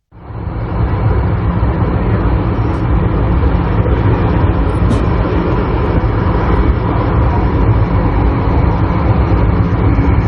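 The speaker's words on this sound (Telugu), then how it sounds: "కట్రా శ్రీనగర్ వందే భారత్ రైలు చినాబ్, అంజీఘాట్ తీగల వంతెన గుండా ప్రయాణించింది" Vande Bharat train on the Katra–Srinagar route crossing the Chenab railway bridge, a steady loud broadband rumble that starts abruptly and holds constant throughout, with no talk.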